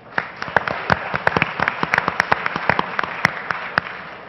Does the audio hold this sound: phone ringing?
no